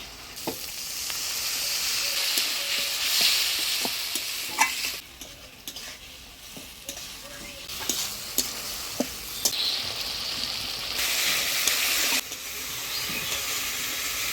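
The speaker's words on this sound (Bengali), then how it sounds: "এবার অল্প জল দিয়ে মশলাটা ভালোভাবে কষিয়ে নেব।" Spice paste of coriander, cumin, ginger, dried chilli, turmeric and salt fries with a splash of water in a village kitchen, giving a loud hissing sizzle that swells and fades, punctuated by sharp spatula taps and scrapes.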